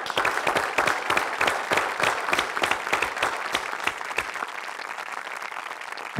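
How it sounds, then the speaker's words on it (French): Audience at an honorary doctorate ceremony at the Catholic University of Louvain claps in distinct rhythmic beats that soften into a thinner, scattered patter toward the end. "On peut les applaudir."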